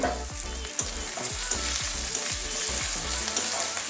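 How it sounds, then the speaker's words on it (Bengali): Ginger garlic paste frying in hot oil while cooking katla fish kalia, a dense continuous sizzle with regular scraping strokes of a spatula across the pan, close and fairly loud. "একটা কাঁচা গন্ধ যাওয়া পর্যন্ত বাজবো"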